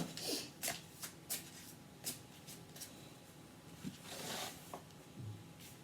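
A deck of oracle cards is shuffled close up, with a series of crisp riffling bursts and soft slaps at an irregular pace and no talk.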